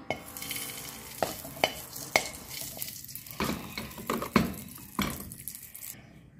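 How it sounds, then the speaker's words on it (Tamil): Ghee sizzles in a kadai as it is stirred and fried, with loud scraping clicks of a spoon against the pan at irregular intervals over a steady frying hiss. "அடுத்தது வந்து சேம் இதே கடாய்க்கு நான் கொஞ்சம் கீ போட்டுக்கொள்கிறேன்"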